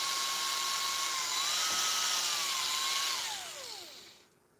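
A power drill whines steadily at high pitch while boring holes in metal, its tone dipping and rising under load before winding down and fading out near the end.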